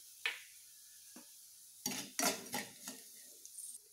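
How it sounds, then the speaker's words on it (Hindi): Red chili powder and salt being roasted and stirred in a pan, a few quiet scattered clinks and scrapes of a spoon against the pan in near silence. "स्वादानुसार नमक भी डाल देंगे और 1 मिनट तक हम भून लेते हैं"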